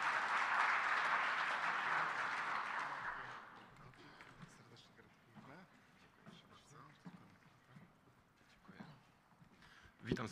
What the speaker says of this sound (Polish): I te brawa właśnie tutaj.